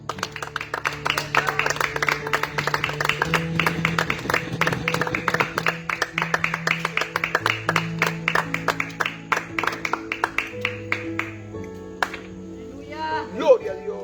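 A church congregation in Jusepin, Venezuela claps hands in a steady, rhythmic beat over sustained keyboard chords, the claps sharp and regular for most of the stretch before fading near the end.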